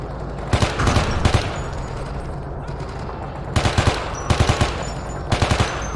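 Bursts of automatic machine gun fire in the Vietnam War shooter Men of Valor, set at the Battle of Hue during the Tet Offensive: loud rapid clusters of shots around the start and again in repeated volleys near the end, over steady battle ambience.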